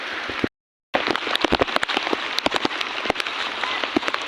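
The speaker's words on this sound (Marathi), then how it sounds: "पाऊस एकदम मजबूत पडतोय" Steady, dense rain pattering hard on a surface, with scattered louder drops and a brief cut of silence near the start.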